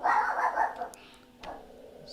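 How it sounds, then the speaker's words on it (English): A pet dog barks indoors during a home coding session, a couple of loud close barks followed by a quieter yip, with no talking over it. "Sorry, my dog."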